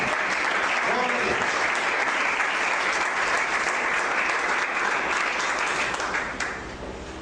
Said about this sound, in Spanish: Un aplauso al Señor en esta mañana.